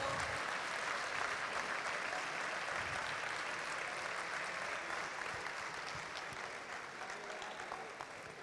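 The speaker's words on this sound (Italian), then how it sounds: "Grande applauso." A crowd applauds steadily at a youth basketball opening night in Veneto, a broad, continuous wash of clapping that tapers slightly toward the end, with faint voices beneath.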